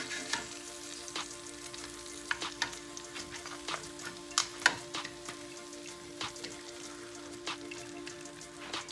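Pan-seared lamb chops just flipped in a hot pan give a constant close sizzle and spitting crackle, with frequent sharp pops scattered over about nine seconds and no talking.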